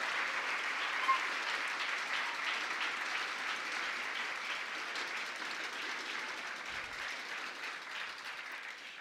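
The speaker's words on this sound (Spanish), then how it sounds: "Fuerte el aplauso por parte de nuestros amigos de Los Santos." An audience at a regional oratory contest final in Los Santos province, Panama, applauds in a steady, sustained wash of clapping that sounds fairly soft and distant and fades slightly toward the end.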